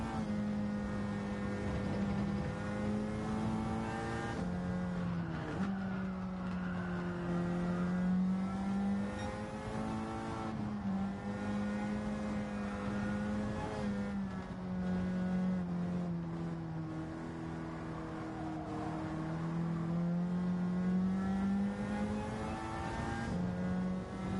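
A CASCAR Cup stock car in Gran Turismo 7 laps Suzuka from an onboard view, its engine holding a loud, steady drone with shifts in pitch as it accelerates and eases off through the corners.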